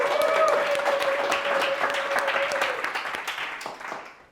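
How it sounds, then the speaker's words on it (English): A conference audience at a business event in Tenerife claps for a speaker, a dense wash of applause that holds steady before tapering off, with a faint tonal hum underneath. "give an applause for Fede"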